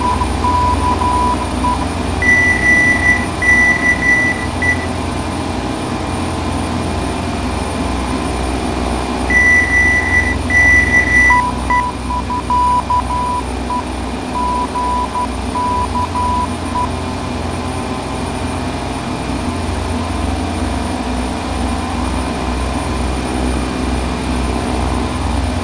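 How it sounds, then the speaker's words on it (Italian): A King Air 350 in the Flight Simulator 9 game drones with a loud, constant turboprop engine hum, steady throughout with faint cockpit tones sounding briefly over it. "Bellissimo aereo questo."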